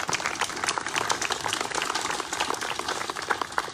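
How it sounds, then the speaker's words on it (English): Audience applause at a Memorial Day ceremony held by a VFW post in Rochester Hills, a dense, steady wash of clapping that runs through the whole moment with no voices over it. "A round of applause."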